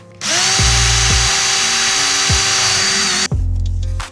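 A power drill runs close and loud through a masked CRF450RL accessory panel, holding a steady high whine with a few short dips and a brief stop near the end.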